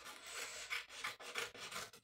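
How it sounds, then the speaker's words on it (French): Scissors cut through two-tone paper in a series of quiet, rasping snips that come in uneven bursts, close up and alone with no talking. "Je prends un ciseau et je coupe"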